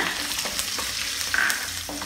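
A tempering of green chillies, curry leaves, turmeric and chopped Indian borage leaves fries over a raised flame, giving a loud, steady sizzle broken by scattered stirring clicks, close and without talk.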